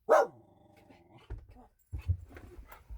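A pet dog at a championship event gives one sharp, loud bark, followed by softer low grumbles and short muffled woofs, with no talking.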